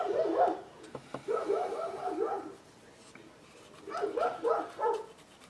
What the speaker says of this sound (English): Hear the dogs barking in the background.